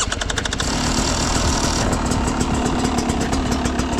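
A Beta 300 two-stroke dirt bike with a smart carb runs with the choke on, a loud, close, steady idle with a rough, knocking rasp that settles into an even burble.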